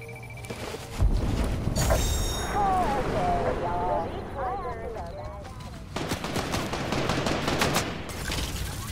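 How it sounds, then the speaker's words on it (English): Fortnite gameplay with enemy gunfire cracking in rapid bursts amid dense game noise, including rattling automatic fire toward the end, with a voice talking over it. "Why are they shooting at me?"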